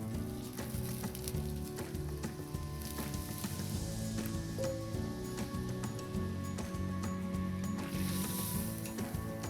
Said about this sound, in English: So we're going to deglaze our shallots. Perfect. And now we're adding in the shrimp stock.